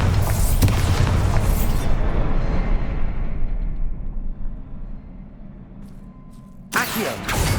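Bombarda blasting spell from the Hogwarts Legacy video game: a loud, booming explosion that rolls off into a long rumbling decay, followed by a fresh burst at the end.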